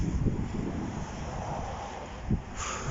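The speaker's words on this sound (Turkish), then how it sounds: "Hava çok rüzgarlı." Steady wind rushes across the microphone with low rumbling buffeting and a couple of stronger gusts; no voices.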